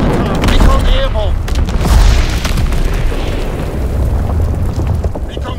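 Artillery barrage explosions in Call of Duty WWII on the Shipment 1944 map: heavy booming blasts roll continuously, loud and dense, with small-arms fire and a voice speaking over the din.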